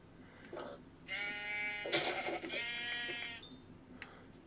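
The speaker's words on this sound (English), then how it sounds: "Oh, there's another gray sheep as well." A sheep in the Minecraft video game bleats several times, a few short close calls followed by two longer wavering bleats, heard alone with no talking.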